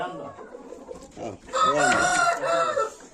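A rooster crows loudly and close by, one long drawn-out call in the second half, with clucking fowl and a voice briefly audible before it.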